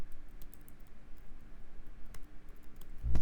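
Computer keyboard typing, a quick irregular run of light clicks at close range with a low thump at the end, no voice.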